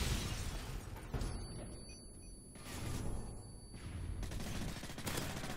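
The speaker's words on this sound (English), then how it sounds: "And there's another guy sniping." Rapid sniper rifle and gunfire bursts from a multiplayer shooter game, Terminal 2.0 map, loud and dense with repeated cracks and a sharp shatter-like burst, filling the whole stretch with no talk.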